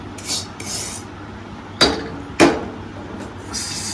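Metal idli pots for making sugar gathi clank together in a home kitchen, two sharp close ringing knocks standing out among softer scraping and shuffling sounds of handling.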